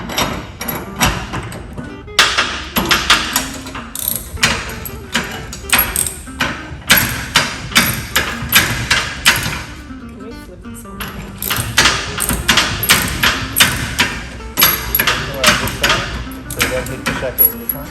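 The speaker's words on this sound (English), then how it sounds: "we're going to start to tighten these bolts until we can nip it tight enough" Socket wrench tightening the bolts of a Trix Circus beam clamp, giving a steady run of close, sharp metallic clicks and knocks with brief pauses, heard alone.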